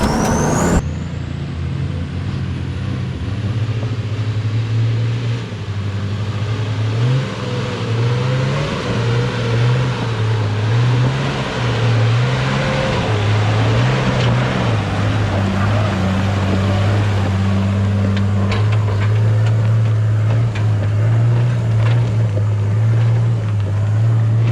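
A 4WD vehicle climbs a steep track in first gear low range, its engine droning loud and close with repeated rises and falls in revs as it labours uphill, wind noise around it.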